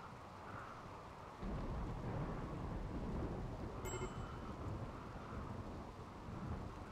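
Steady heavy rain with rumbling thunder fills a stormy scene in the colony-building game Rimworld, a constant loud wash that swells sharply after the first second and holds, with one brief high tonal chime partway through.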